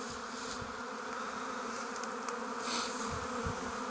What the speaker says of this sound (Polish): Rojenie się pszczół.